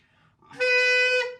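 A single high, reedy saxophone note swells in and holds steadily for about a second before cutting off, played alone with no talking.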